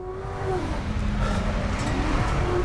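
Ford Crown Victoria Police Interceptor driven hard at full throttle on a rally stage, its engine droning loud and steady with shifting harmonic tones, heard alone without talk.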